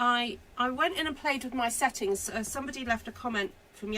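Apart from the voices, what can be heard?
No distinct noise like a dog, phone or traffic.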